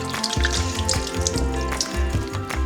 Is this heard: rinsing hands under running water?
yes